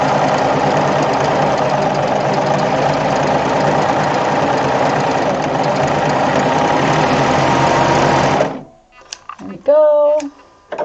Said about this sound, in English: the beauty of the serger is with stitches like this, it's cutting as it sews